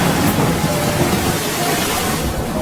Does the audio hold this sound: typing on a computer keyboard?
no